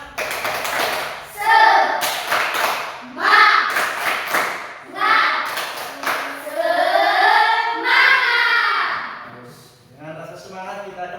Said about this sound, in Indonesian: kita adakan tepuk semangat dulu. Tepuk semangat.